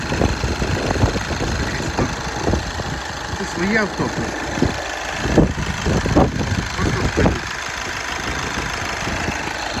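A 2014 VW Caddy 2.0 TDI diesel van engine idles with a steady low rumble while someone talks over it, his voice closer and louder than the motor.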